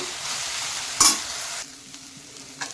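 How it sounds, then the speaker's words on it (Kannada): Bitter gourd frying in a pan for a North Karnataka palya, with a steady sizzle and one sharp scrape of stirring near the middle, then quieter sizzling with a few faint clicks. "ಚೆನ್ನಾಗಿ ಫ್ರೈ ಮಾಡ್ಕೊತೇನೆ ಅಲ್ಲಿವರೆಗೂ"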